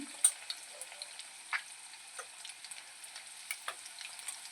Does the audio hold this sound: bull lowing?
no